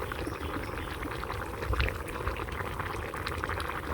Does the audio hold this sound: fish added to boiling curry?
yes